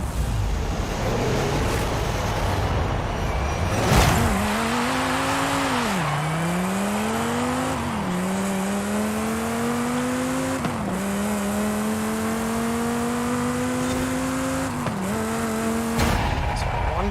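A Dodge Viper's engine in a racing video game on a quarter-mile run, revving up through several gear shifts, its pitch climbing and dropping at each change, loud and steady throughout the sprint.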